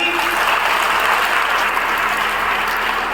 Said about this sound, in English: Shall we give him a round of applause, everybody?